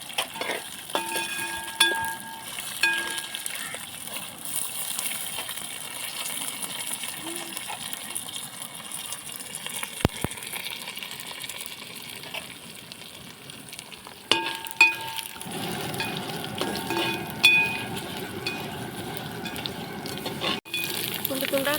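Urad dal and chana dal sizzling in hot frying oil for village-style curd rice, a steady soft crackle with occasional stirring clinks, fairly faint throughout.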